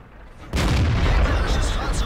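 A tank cannon fires in World of Tanks, a Panzer VII Löwe battle: a single loud, sudden boom after a short quiet stretch, then a heavy rumbling blast that fills the rest of the moment.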